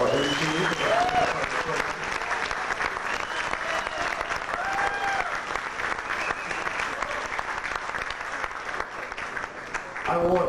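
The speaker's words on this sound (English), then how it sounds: "I'd like everyone to right now put their hands together and applaud Coco LaChine as our MC." Sustained audience applause for the MC at an evening community event, a dense steady wash of many hands clapping for about ten seconds with light crowd murmur mixed in, fading out at the end.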